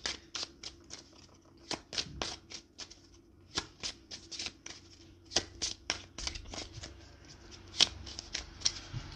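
Tarot cards being shuffled by hand, a close series of crisp riffling flutters and taps with short pauses between bursts.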